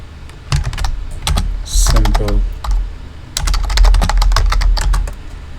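Clicky computer keyboard typing in irregular bursts of keystrokes, close and fairly loud, with short pauses between runs and a faint background hum.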